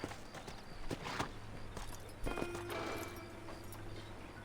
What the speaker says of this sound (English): Aqui tem outro cavalo aqui na porta da minha residência